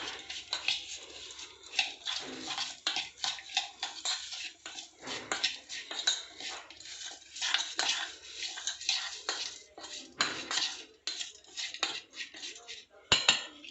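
A spoon stirs eggplant curry with peanut and sesame powder in a village kitchen in Kalaburagi, making steady clinking and scraping against the pot throughout, close and fairly quiet.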